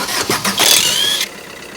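An engine with a snapped chain and broken rockers cranks and catches, a loud close burst of turning over that rises into a brief rough running roar before cutting back to quieter noise.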